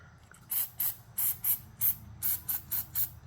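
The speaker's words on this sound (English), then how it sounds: "We're going to spray some lube on that." Short bursts of aerosol lubricant hiss onto a power seat motor from a 1968 Cadillac Sedan Deville during a rebuild: about nine close, crisp sprays in an uneven rhythm, with quiet pauses between them.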